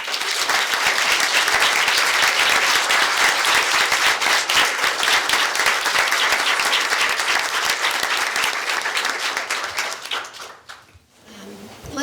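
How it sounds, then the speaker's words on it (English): Audience applause fills the room at the end of a high school mock trial final, steady dense clapping that is loud and sustained for about ten seconds before fading out. "I think it would be appropriate to give a round of applause to all of our"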